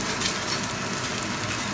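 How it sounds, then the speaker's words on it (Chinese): Tonkatsu-style mackerel (土魠魚) pan-frying under a lid in a non-stick pan, giving a steady, close, dense sizzle that runs without a break and with no talk over it. "这个鱼啊，煎一煎"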